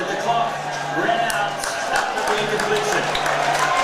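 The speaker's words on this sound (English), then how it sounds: "You can hear the applause here from this Army crowd." A large crowd at an Army versus Temple football game applauds and cheers in a steady roar, with a commentator's voice talking over the noise.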